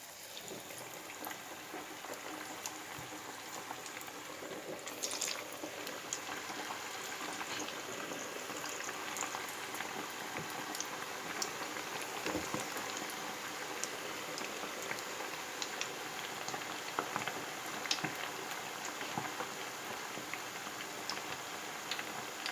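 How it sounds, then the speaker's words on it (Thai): Battered chicken sizzles and crackles steadily in hot oil in an electric fryer at 170 degrees, a continuous bubbling hiss with scattered pops throughout and no talking. "เดี๋ยวเรามาทอดไก่กันเลยนะคะ"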